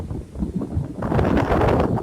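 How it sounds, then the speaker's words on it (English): Wind gusts roar during Tropical Storm Michael, a rough, blustery rush that surges louder about halfway through and stays strong to the end. "Now the wind gusts pick up, and it can last, anywhere from a few seconds to a minute, and then drop."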